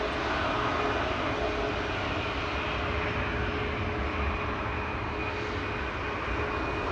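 A Corendon Boeing 737 MAX 9 bound for Antalya moves near the threshold of runway 18 left at Schiphol, a loud, steady jet roar with a faint high whine running through it.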